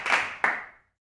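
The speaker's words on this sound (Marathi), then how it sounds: "जोरदार टाळ्या वाजवून आपण त्यांचं स्वागत करूया" An audience claps to welcome guests onto a stage at a Marathi gathering: two sharp, loud bursts of clapping in quick succession that cut off into silence.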